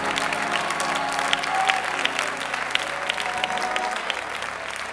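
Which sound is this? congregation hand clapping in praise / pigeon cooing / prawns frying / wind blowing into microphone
congregation hand clapping in praise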